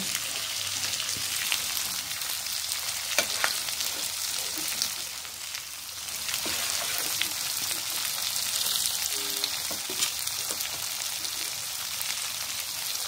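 Masala fries for an egg curry, a steady close sizzle of spices in the pan with occasional light taps and stirring scrapes, continuous and even throughout.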